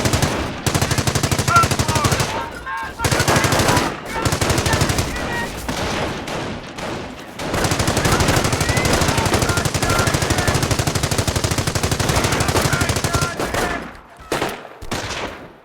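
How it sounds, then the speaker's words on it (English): Rifle and machine gun fire in the World War II strategy game Company of Heroes, a loud, dense stream of rapid automatic bursts with short gaps, nearly continuous across the whole stretch. "Taking rifle fire!"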